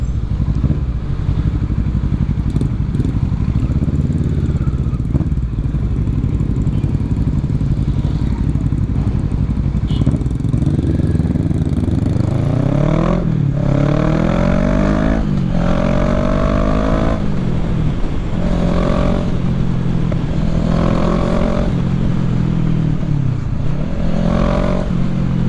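A group of motorcycles rides past on a road in Sukabumi, their engines rising from a steady drone to a loud, close roar that rises and falls as each bike passes. No one speaks.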